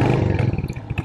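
Royal Enfield Hunter-Ceptor 350 single-cylinder engine, 349 cc, running close up with a deep, throbbing exhaust pulse that fluctuates briefly as if blipped, heard alone.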